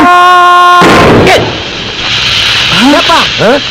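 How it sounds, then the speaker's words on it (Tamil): A loud bang like a tyre bursting cuts off a steady tone, followed by hissing noise and voices calling out over it. "ஏண்டா இப்படி பேசுறதுக்கே டயர் வெடிச்சிருச்சு"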